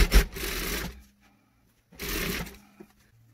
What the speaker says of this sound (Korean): 이렇게 눌러서 박음질을 해주세요